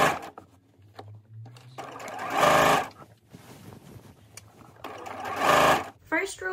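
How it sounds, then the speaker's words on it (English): A home sewing machine stitches a shirring row on a dress. Its rapid mechanical hum comes in two short, fairly close bursts, separated by quieter handling noises. "So I'm going to line up, just so I know where I'm sewing, the edge of my presser foot with this line of stitches."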